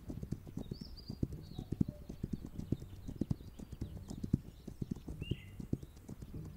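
Horse hooves clip-clopping in a rapid, steady gallop rhythm within the video game This Land Is My Land, with occasional faint high chirps overhead and no talk.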